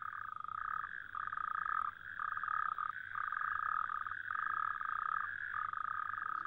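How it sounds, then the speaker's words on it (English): A dense chorus of male toads croaking continuously, overlapping trills pulsing in long bursts with brief dips, close and loud, no voices. "And only by croaking can the toad offer a valid argument in the dark."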